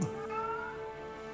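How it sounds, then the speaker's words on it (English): A single short cat meow, played as a sound effect during a tabletop role-playing game session, rising and fading over a sustained musical drone, with no talking over it. "meowing at the Bugbear's enemies"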